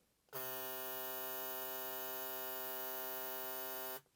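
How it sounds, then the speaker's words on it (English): A Gamma+ XCEED hair clipper switches on and runs with a steady, loud buzzing hum of even tone for about three and a half seconds, then cuts off cleanly, heard alone without talk. "now let's check the sound and start off with the XCEED"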